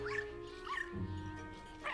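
A dog in the Luigi's Mansion 3 video game makes several short, faint yips and whimpers over a low background music bed.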